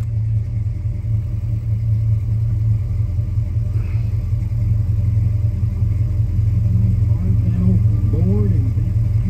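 A 1989 Chevrolet C1500 pickup truck engine runs at a steady, deep idle, a constant low rumble close by, with someone speaking briefly over it near the end.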